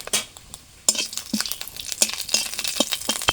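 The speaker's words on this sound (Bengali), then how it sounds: "প্রথমে শুকনো লঙ্কা ভেজে নেব।" Dried red chillies fry in hot mustard oil with soft sizzling, punctuated by repeated clinks and scrapes of a spatula stirring against the pan, close and fairly busy after a brief quiet start.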